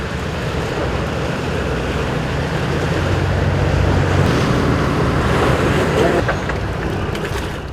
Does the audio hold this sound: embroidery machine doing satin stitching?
no